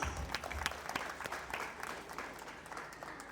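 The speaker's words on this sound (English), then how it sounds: "let's give him a big round of applause" An audience at a school function claps for a top-scoring student, a soft but continuous patter of many hands at a moderate distance.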